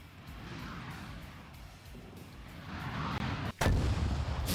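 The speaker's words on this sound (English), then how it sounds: "Why did I hear a missile?" A heavy artillery or missile impact in a military video game lands with a loud, sudden boom that cuts through steady background rumble near the end.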